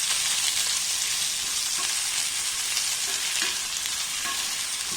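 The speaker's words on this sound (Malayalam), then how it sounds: "ഇനി നമുക്ക് ഒന്ന് ഇളക്കി കൊടുക്കാം. ഇതൊരു 1 മിനിറ്റ് നമുക്കൊന്ന് ഇളക്കി കൊടുക്കാം." Sliced onion and capsicum frying in a pan, a continuous loud close sizzle with soft stirring scrapes throughout and no voices.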